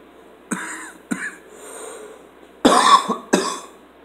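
A man coughs several times while trying a vape inhaler, sharp close bursts with short pauses between them, the last pair harsher and louder, in an otherwise quiet room.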